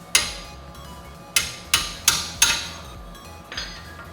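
A wrench on a bolt is struck with a hammer during a car brake repair, likely on an S-Class. There are six sharp metallic clanks at irregular spacing, close and loud, each ringing briefly, with no talking.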